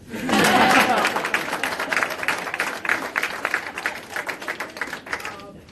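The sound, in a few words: audience applause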